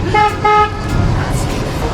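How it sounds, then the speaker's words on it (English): A car horn gives two short toots in quick succession on a winding mountain road, loud and close, followed by engine and road noise. "we're giving a honk just to make sure that if anyone's coming, they don't completely smash us off the road"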